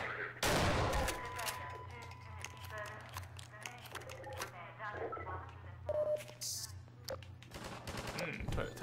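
Weapon fire in the video game Half-Life 2, a loud burst of shots early on followed by scattered sharper reports and clatter through the rest, with a steady low hum underneath and a person talking over the action.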